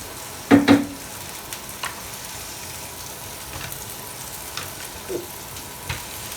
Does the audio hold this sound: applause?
no